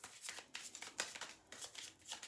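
Sticky tarot cards being shuffled by hand, a quiet run of soft riffling bursts repeating in an irregular rhythm, close by with no talking.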